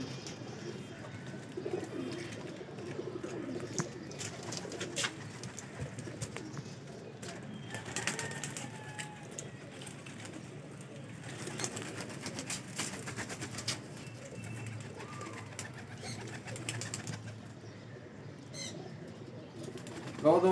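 Royal Teddy baby pigeons for sale in Lahore coo softly and flutter their wings, with steady low cooing and occasional flapping bursts close by in a busy, continuous backdrop.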